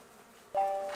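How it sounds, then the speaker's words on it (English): A sudden close buzzing drone of bees starts midway and holds steady during beehive removal from a wall, like a swarm near the listener. "fun wrangling bees."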